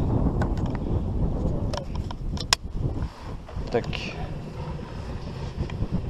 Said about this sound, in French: Ah, c'est pénible ce vent, bordel.